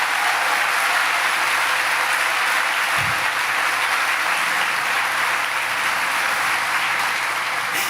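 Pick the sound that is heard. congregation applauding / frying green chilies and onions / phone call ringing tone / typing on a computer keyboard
congregation applauding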